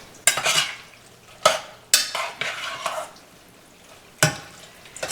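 Noodles with canned tomatoes heating in a pan on a stove burner, with several loud scraping stirs and a soft sizzle between them, close and without talk.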